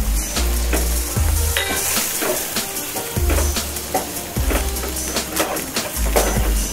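Dry spices for a garlic fenugreek dish sizzle steadily in a hot pan, stirred with repeated scraping and knocks of a wooden spoon over the constant frying hiss.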